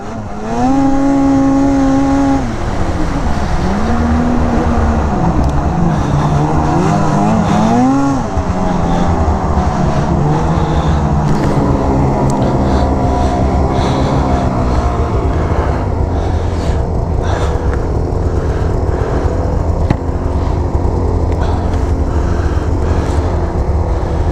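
A 2020 Arctic Cat Riot snowmobile ridden by a heavy rider, its engine loud and close throughout, rising and falling in pitch as the throttle surges, with a steady rough track roar underneath.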